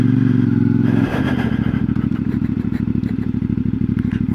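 A CFMoto 450MT motorcycle idles with a steady close thrum, then blips as the rider shifts and begins a slow three-point U-turn, the engine settling into an even, rhythmic low-speed chug.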